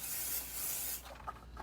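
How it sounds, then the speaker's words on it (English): Pixie spray hissing from a can onto a craft box in a steady close burst for about a second, then breaking into a few short faint puffs and rubbing sounds. "I'm going to give that a spray."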